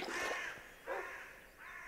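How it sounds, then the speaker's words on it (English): Three loud crow-like caws from a bird in the Minecraft video game ring out in separate drawn-out calls, clear and alone with no talking. "Dang, that bird's really loud."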